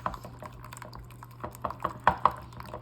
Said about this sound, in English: Now we're gonna go ahead and whisk these up.